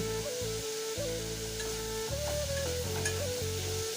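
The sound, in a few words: chopped onions frying with turmeric and salt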